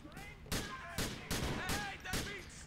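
Pistol shots in GTA IV: The Lost and Damned, about five sharp, fairly quiet cracks spaced roughly half a second apart, with faint game sounds between them.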